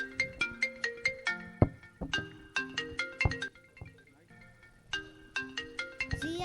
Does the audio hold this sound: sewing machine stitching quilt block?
no